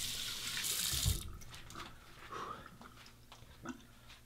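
Tap water running into a sink as a face is warmed before a shave, a steady hiss that stops after about a second, followed by soft splashing and handling sounds nearby.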